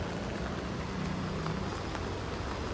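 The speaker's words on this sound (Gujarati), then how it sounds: "વરસાદ ચાલુ છે" Heavy monsoon rain falls steadily on a flooded, waterlogged area of Surat, a continuous dense hiss with no pauses and no voices.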